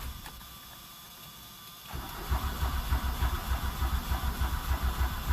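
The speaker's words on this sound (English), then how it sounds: "I don't want to crank on this thing all day." Diesel engine with glow plugs being cranked over without firing, a rhythmic labored churning of the starter motor that kicks in partway through and continues steadily without catching.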